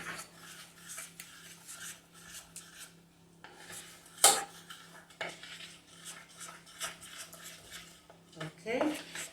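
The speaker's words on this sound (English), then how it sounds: "Stir them together." A spoon stirs a cornflour mixture in a bowl with repeated scraping and clinking strokes, one sharp knock standing out, heard up close at a fairly low level.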